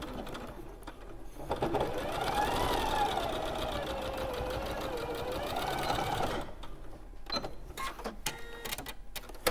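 Sewing machine stitching down pre-cut fabric strips, running steadily for about five seconds near the mic, then stopping into quiet handling and small clicks.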